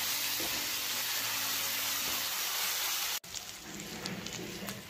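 Crushed fried onion fries with masala in a pan, a steady close hiss interrupted by a sharp click, then a busier crackle with light stirring.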